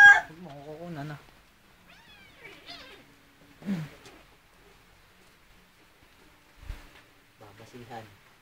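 A cat meows several times in short, separate calls, some rising and wavering, with a few brief thumps and quiet gaps between them.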